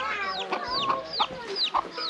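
Chickens cluck repeatedly and close by in a small forest village in Laos, a busy rhythmic series of sharp calls over a low background hum.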